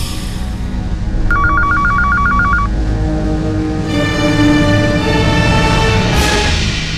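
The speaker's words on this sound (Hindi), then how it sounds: "कोई फोन क्यों नहीं उठा रहा है?" A telephone rings with a rapid electronic trill, one burst of repeated tones, over a steady background hum with other sounds later.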